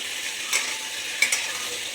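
Panch phoron spices and dry red chillies sizzling in hot oil, a steady close hiss with a couple of soft stirring clicks, no voices.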